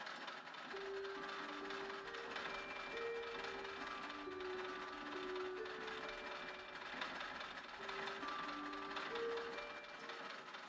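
A sewing machine hums steadily and close up while sewing the hems of a thin, slippery silk veil, a continuous mechanical whir with faint shifting tones and no talk.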